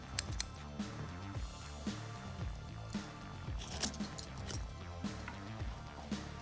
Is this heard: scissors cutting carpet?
yes